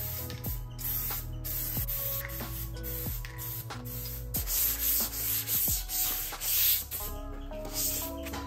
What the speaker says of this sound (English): using a soft high grit sponge to smooth out the primer afterwards